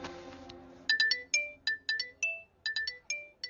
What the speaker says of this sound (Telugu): నన్ను ఇది ఫోన్ చేసిందేంటి?